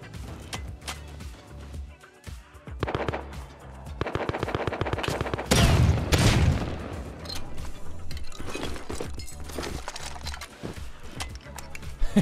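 Rapid bursts of automatic gunfire ring out in a survival shooter game, long sustained volleys and scattered single shots at varying distances, loudest around the middle, with a player's voice talking over parts of it.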